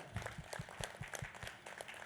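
An audience applauding at a meditation and service gathering: a brief, faint burst of rhythmic hand claps, heard from a distance.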